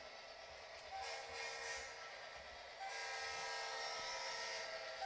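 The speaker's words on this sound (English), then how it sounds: "train's coming around to the latest light" An HO scale model train runs around a layout with a steady rolling rumble that swells slightly as it passes, faint and continuous with no talking.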